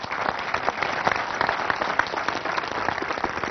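An audience at a talk breaks into sustained applause, a dense, steady wash of many hands clapping that continues evenly, heard from within the room.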